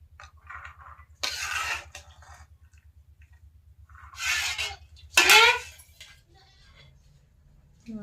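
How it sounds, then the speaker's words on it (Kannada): Boiled chickpeas being transferred from a pot onto a plate in a village kitchen, with a few bursts of metal scraping and clattering against a steady low hum, separated by quiet gaps. "ನೋಡ್ರಿ ಇವಾಗ ಕುದ್ದಿದ್ದನ್ನು ಒಂದು ತಾಟ್ ಒಳಗಡೆ ತೆಗಿಲಾತೀನಿ ನೋಡ್ರಿ."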